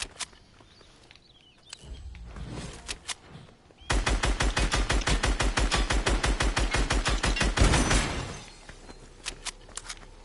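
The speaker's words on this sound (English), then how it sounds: "That dude with the minigun's gotta go." A minigun fires in the Fortnite video game, a long rapid burst of evenly spaced loud shots after scattered single shots, footsteps and movement sounds.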